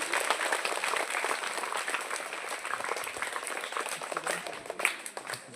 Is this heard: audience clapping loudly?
yes